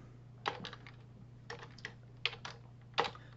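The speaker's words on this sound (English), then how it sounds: "Let me type it without doing the ascets part first." Computer keyboard keys clack in short irregular clusters while Python code is typed, close and moderately loud over a faint steady hum.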